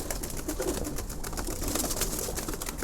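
A pet pigeon coos softly and steadily under a low background hum, close by with no voices.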